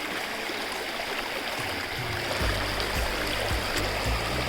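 Snow melt stream flowing over rocks on a high mountain trail, a steady broadband rush of water close by, with some lower gurgling surges toward the end and no talking.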